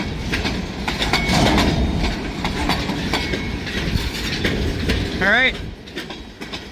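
A vintage freight train rumbles along the track with rhythmic clickety-clack and a brief metallic wheel squeal, loud and close, before fading slightly as someone speaks briefly.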